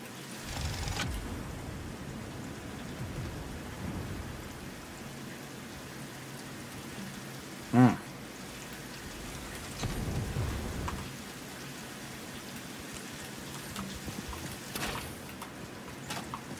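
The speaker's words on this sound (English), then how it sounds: "Rain sounds really cool." Steady rainfall patters continuously in the video game Satisfactory, with a sharp crack and a couple of low rumbles of thunder breaking through.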